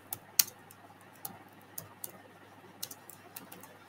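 Keystrokes on a computer keyboard typing out a short phrase in a Python program, a sparse run of separate clicks spaced unevenly over a few seconds, close and fairly quiet with no voice.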